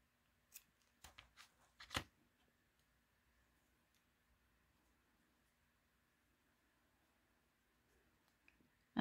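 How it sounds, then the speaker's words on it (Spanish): Scissors snip crochet thread in a few quick, close, faint cuts, followed by near silence. "y cortamos nuestro hilo"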